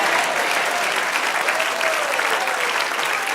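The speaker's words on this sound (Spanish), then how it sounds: "Denle un aplauso al Señor." A church congregation breaks into steady, dense applause, a continuous wash of many hands clapping together at an even level throughout, with no distinct voices standing out.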